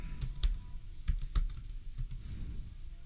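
Keys clack on a computer keyboard as an Excel SUMIFS formula is typed, a handful of sharp, irregular taps with a few louder strikes over a quiet room.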